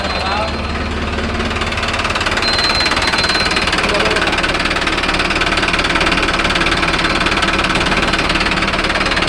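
Loud, steady diesel engine roar with a rapid knocking throb from a Mahindra Arjun Novo 605 DI tractor fitted with a mounted crop cutter, running continuously up close in the field, with voices partly buried beneath it.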